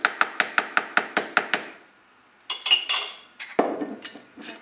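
A spoon stirs olive oil into avocado rougail in a bowl. Close, quick, evenly spaced clinking taps are followed by a pause, then scattered scraping clinks. No one talks.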